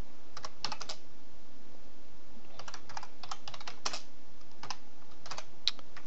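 Typing on a computer keyboard while writing C++ code, heard as quick, close bursts of clicky keystrokes separated by short pauses, with no voices over it.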